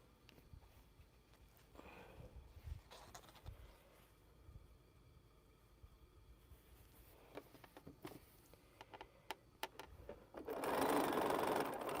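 Sewing machine stitching mini pinwheel quilt blocks, running in short bursts of rapid mechanical chatter with pauses between seams, then a louder sustained run near the end; no talk.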